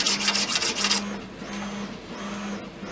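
A steel file is slung and drawn along a wooden ramrod for a Kibler Colonial flintlock kit. It makes a quick run of close raspy strokes, then slower scraping passes, each with a faint tonal ring, all close up with no voices.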